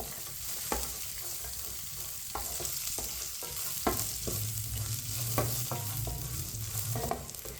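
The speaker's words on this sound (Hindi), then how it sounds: "इसे ऐसे ही चम्मच चलाते हुए भूनना है, जलने नहीं देना है।" Dry fruits roasting in a pan for meethi seviyan, with a spoon stirring and scraping in irregular clicks over a soft, continuous sizzle, close and fairly quiet.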